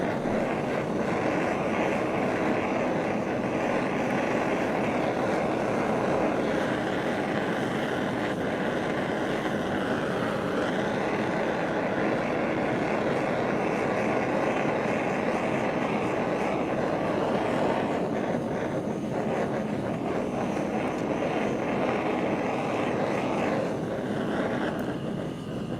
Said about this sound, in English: Keep the torch moving around because you don't want to burn it.